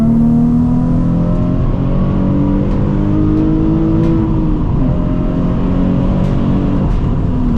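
A Nissan 350Z HR accelerates hard to pass another car on a road, its engine droning loud and steady from inside the car as the revs climb, with no talking over it.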